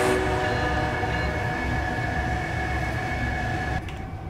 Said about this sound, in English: And the blare of the horn.